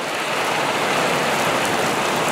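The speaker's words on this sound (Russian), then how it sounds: "А это такой дождик. Пока что кажется слабеньким." Heavy rain shower pouring down in a city street in Tomsk during a summer thunderstorm, a dense, steady hiss of rainfall on surfaces with no talk, continuous and loud throughout.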